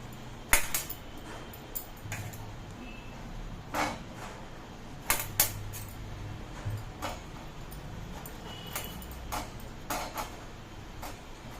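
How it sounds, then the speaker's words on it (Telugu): Tender bottle gourd (anapakaya) being chopped into small pieces with a knife: sharp, close taps on a board at an uneven pace, some in quick pairs, over a low steady background hum. "చిన్న ముక్కలు కోసుకుందాం"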